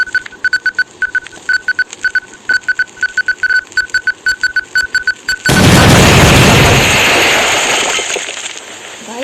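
A firecracker bursts outdoors after a run of rhythmic fizzing, crackling pulses, erupting into a loud, sustained crackling roar that slowly fades.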